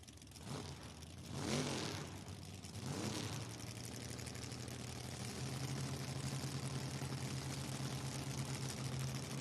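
A yellow 1968 Camaro and an S10 at a footbrake drag race, engines rumbling loudly and steadily with a couple of revving surges early on, then a sustained drone, with no talk.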